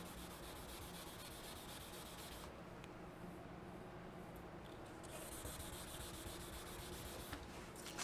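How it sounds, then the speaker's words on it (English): Steady close rubbing and sanding on car clear coat to remove paint scratches, a continuous even abrasive hiss with no pauses. "So you are abrading the clear coat. You are removing microns of clear coat."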